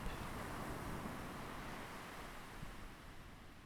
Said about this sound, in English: there was no sound, apart from the crashing of waves against the side of the ship